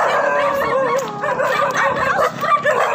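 Several tied-up dogs bark, yip and whine together in a loud, continuous, overlapping chorus nearby.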